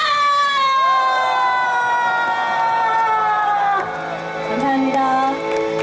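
A crowd at a labor-struggle rally lets out a loud collective shout, sustained and chorus-like with rising whoops and cries over several seconds, close and dense.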